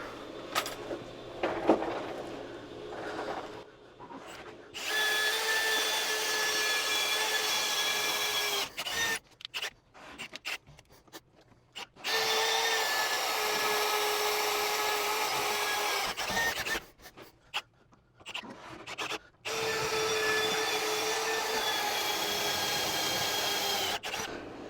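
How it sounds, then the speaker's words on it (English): Long stretches of a cordless drill's steady high whine as it bores through steel while installing a trailer hitch on a converted school bus, broken by brief pauses and a few clicks between bursts. "When you're drilling through steel like this, you want to make sure you have yourself and the drill braced"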